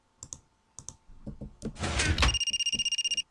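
In a video game, a few clicks and a rustling shuffle lead into an electronic telephone ring: a rapid, evenly pulsed trill that continues steadily at close range.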